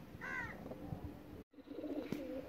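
A pigeon coos briefly, a soft throaty call standing out over a quiet indoor background, followed by another short call after a brief gap.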